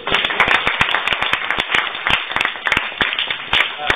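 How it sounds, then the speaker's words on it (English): A small audience claps after a persuasive speech, a close, fairly sparse run of individual hand claps with distinct sharp hits throughout. "Please give him a round of applause."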